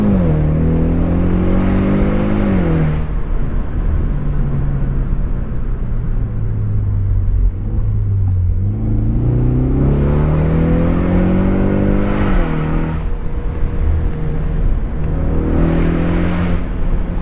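Engine of a 2025 Ford Mustang EcoBoost convertible held in low gear, revving up through the rev range twice with rising harmonic whine, easing off in between, steady loud drone throughout with no talking.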